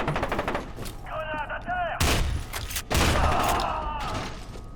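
Combat in the F.E.A.R. 2 video game: a burst of loud, close gunfire and heavy blasts, including a grenade explosion, with sharp impacts and ringing mechanical tails, dense and continuous.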